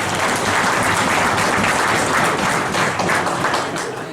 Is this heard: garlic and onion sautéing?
no